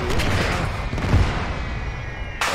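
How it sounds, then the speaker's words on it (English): Fireworks crackle and pop in a dense, loud, continuous volley outdoors during airsoft squad training, with sharp bangs layered over a rumbling wash of noise and voices partly under it. "Oh, those are definitely fireworks"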